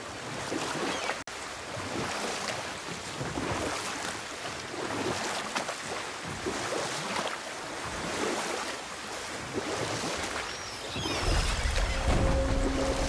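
Wooden boat being rowed across open water in the God of War game, with a steady wash of lapping waves and wind, and oar strokes that are hard to pick out, plus a low rumbling tone near the end.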